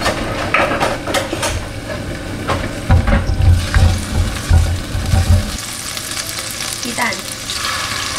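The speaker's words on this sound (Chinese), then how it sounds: "如果是煎鱼跟煎蛋，我会优先煎蛋" Eggs fry in a pan on a home stove with a steady sizzle, broken by clattering stirs and scrapes that come louder in the middle stretch before settling back to an even hiss.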